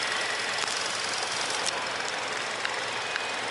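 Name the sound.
Hyundai Tucson 2.5 turbo engine running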